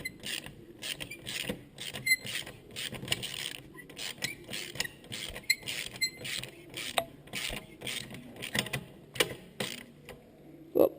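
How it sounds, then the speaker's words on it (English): Ratchet on a 12mm socket undoing a nut on a Honda CRF70/CRF50 engine, a steady run of close, crisp clicks and mechanical rattles with no talk. "you can then go ahead and use a 12mm socket to undo it"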